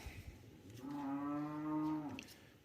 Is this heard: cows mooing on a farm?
yes